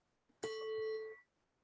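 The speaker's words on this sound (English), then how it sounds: "I'm going to ring the bell when we start and when we finish" A meditation bell is struck once during a group meditation session and rings out with a clear, bright metallic tone, a single strike with a steady ringing sustain of under a second that fades quickly into quiet.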